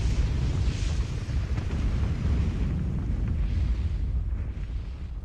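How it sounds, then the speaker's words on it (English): A large explosion erupts in Final Fantasy XIV, a loud sustained roaring rumble that dominates throughout, with no talk over it. "That was a way bigger explosion than I thought it was gonna be."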